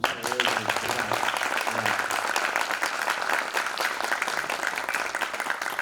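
Audience applause at a Brazilian journalism talk on football and politics, a dense steady wash of clapping throughout with a brief voice at the start.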